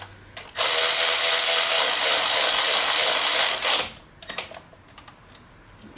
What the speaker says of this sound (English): Nice thing about this ratchet too is it's sensitive. It has a soft touch.